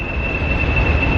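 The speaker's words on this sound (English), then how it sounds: "they've got some of my favourite locomotives, which are some of the diesel trains" Diesel locomotive train at the East Lancashire Railway in Bury, a steady rumbling rail noise with a sustained high squealing tone throughout.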